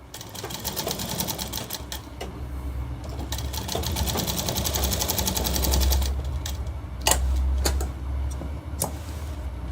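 A sewing machine runs continuously and close while stitching a shirt collar, its rapid needle chatter interrupted by a few sharp clicks near the end.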